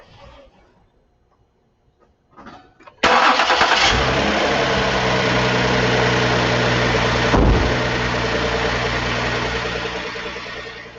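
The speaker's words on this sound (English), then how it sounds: "I'm going to go ahead and start the car." A car engine cranks and catches after a quiet moment, then settles into a steady loud idle with a low droning hum.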